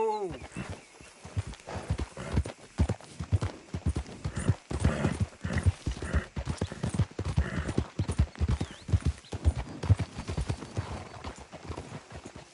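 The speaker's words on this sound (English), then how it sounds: "Fine horse you got there." Horse hooves clip-clop steadily in the Western video game Red Dead Redemption, a rhythmic trot running throughout with occasional whinnies, while characters talk over the hoofbeats.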